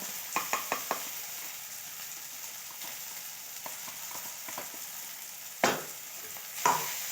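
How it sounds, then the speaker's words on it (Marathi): Tomato and ground masala paste sautés in a pan with a soft, steady sizzle, punctuated by a few quick spoon scrapes early on and two louder stirring knocks near the end. "छान आता वाटण परतून घ्यायचे आपल्याला टोमॅटो नरम पडेपर्यंत वाटून परतायचे"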